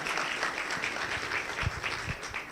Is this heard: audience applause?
yes